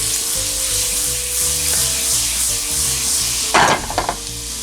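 Garlic frying in a pan on a stovetop gives a steady, loud sizzle close by, with a burst of stirring and scraping near the end and no talking.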